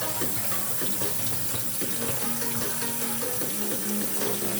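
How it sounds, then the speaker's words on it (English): Water runs and splashes steadily into a sink or container, a continuous close-up gurgling stream. "I'm pouring out the water."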